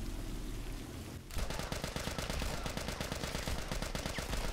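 Rapid automatic gunfire in The Last of Us Remastered, a sustained burst of evenly spaced shots that starts abruptly after a brief ambient rain-like hiss and continues loudly to the end.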